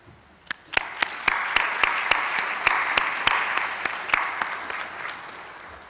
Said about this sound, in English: I wonder if the congregation will just join me to applaud you